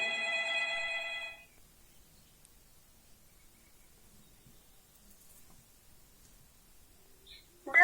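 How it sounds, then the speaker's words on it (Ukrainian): A telephone rings briefly at the start, an electronic trill that cuts off, followed by near silence and a short sound at the end. "Ой, звонок, то, мабуть, ваша мама дзвонить"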